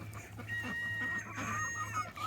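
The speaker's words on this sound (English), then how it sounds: "She's a very small chicken." A very small hen clucks in a coop, a string of close, soft clucks and short calls over a low steady hum, with no talking.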